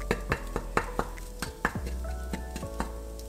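A spoon scrapes and taps against a pan in a steady rhythm while tofu scramble sizzles beneath it, with faint clatter of cookware and no talking.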